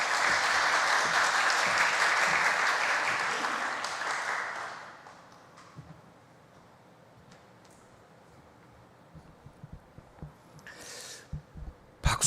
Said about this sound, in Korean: 여러분 박수로 한번 환영하고 우리 목사 말씀 듣도록 하겠습니다